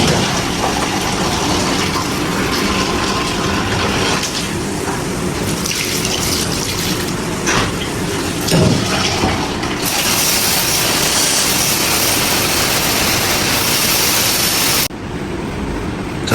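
Water is poured into a running machine, a steady broad rush of flowing liquid over a constant mechanical hum, continuing for the whole stretch with a brief splash near the middle and a quieter tail at the end.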